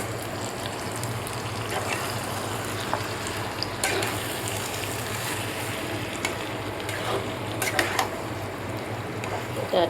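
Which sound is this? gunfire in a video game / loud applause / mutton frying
mutton frying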